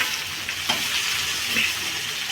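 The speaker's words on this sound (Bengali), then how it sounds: "একটু সামান্য জল দিলাম" Cumin powder sizzling in a pan as a little water is added, a close, steady hiss of frying with a few light stirring clicks and a brief sharp burst at the end.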